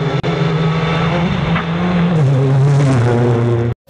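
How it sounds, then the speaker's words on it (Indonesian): A toy race car gives off a steady, loud whirring motor hum with a sustained buzzy pitch that rises slightly, running close and continuous for several seconds before cutting off abruptly. "Ada mobil balap."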